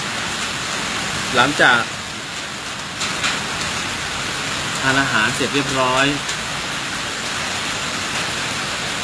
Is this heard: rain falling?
yes